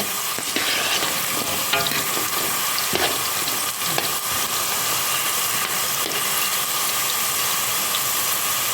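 Potatoes deep frying in hot oil in a home kitchen, a steady, loud sizzling hiss with occasional bubbling crackles and light stirring clicks throughout.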